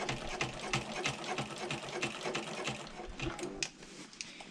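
Sewing machine stitching a bag liner to the exterior fabric, a fast continuous mechanical rattle heard close and moderately loud, with no talking.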